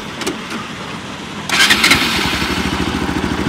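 Bajaj Pulsar RS200 motorcycle on its stock exhaust cranks, catches after a brief starter whir, and settles into a steady, loud close-up idle with an even throbbing pulse.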